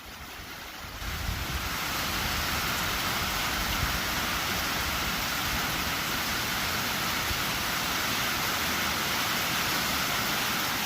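Rain pours at an outdoor rifle range, a loud, constant hiss of falling water that swells in after the first second and holds steady, with no voices.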